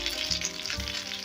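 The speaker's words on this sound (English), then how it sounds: "So this has been cooking for a total of about 12 minutes now." Honey garlic chicken breasts fry in a hot pan with a steady, close sizzle and crackle that holds throughout the short stretch, without any voices.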